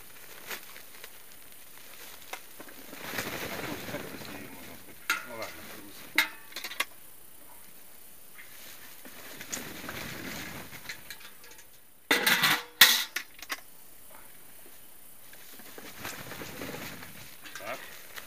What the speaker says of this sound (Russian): сейчас это высыпаем картошку